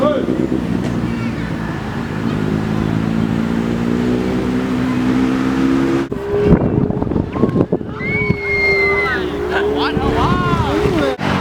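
A vehicle rides along a street in Thailand, its engine droning steadily with wind rushing past the microphone while someone talks over it.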